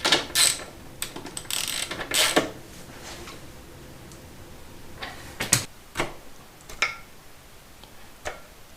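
Metal clicks and clinks as a nut is tightened on the rear of a Honda MT250 Elsinore motorcycle during reassembly after restoration. Sharp taps come in scattered bursts, close and fairly quiet, with no talking.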